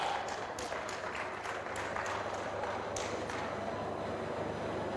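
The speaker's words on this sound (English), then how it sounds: "a round of applause again for her." A conference audience applauds with a steady, dense wash of clapping hands that holds at an even loudness for the whole stretch, with scattered sharper claps standing out.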